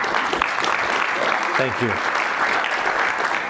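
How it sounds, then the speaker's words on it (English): Audience applause after testimony before a legislative committee, a steady broadband clapping that fills the whole stretch, with a brief spoken thanks heard over it partway through. "I appreciate y'all clapping."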